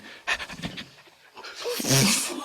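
A person imitates a dog panting, with quick breathy huffs in bursts, fairly close and moderately loud.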